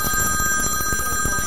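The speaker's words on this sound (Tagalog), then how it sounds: "Ayan yung telepono." A telephone rings indoors during a Filipino noontime comedy street segment, its bell tones steady and loud across the whole moment with a busy room behind it.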